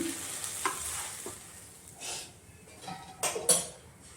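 A dosa cooks on a hot pan with a soft steady sizzle, broken by a few sharp scrapes and metallic clinks from a spatula against the pan, close and fairly quiet.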